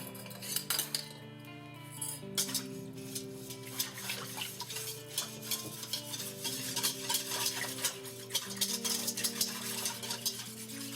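Salt being stirred into matzah dough ingredients, raw honey among them, in a bowl: repeated clinking, scraping strokes of a utensil against the bowl at an irregular rhythm, with musical tones sounding underneath.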